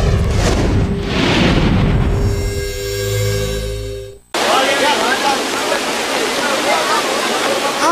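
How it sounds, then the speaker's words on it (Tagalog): Floodwater from the overflowing Dipolo River in Zamboanga del Sur, swollen by a typhoon, rushes loud and steady. The torrent is abruptly cut off and replaced by a dense, continuous roar, with no words spoken. "Rumagasa ang tubig sa pag-apaw ng Dipolo River dahil sa pananalasan ng bagyong Zoraida."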